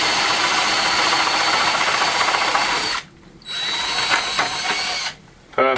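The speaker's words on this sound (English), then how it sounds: "Now I can drill through there with my masonry bit to make the hole for my rod." A masonry bit drills into stone to make a hole for a handrail rod on a Catalan vaulted staircase; loud, close grinding runs in long bursts, breaking off briefly about halfway through and again near the end.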